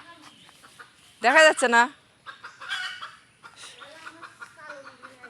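Chickens perched up in a tree let out one loud, close burst of clucking followed by softer, scattered clucks, with a person speaking briefly.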